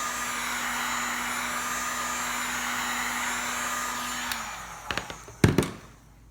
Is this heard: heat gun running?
yes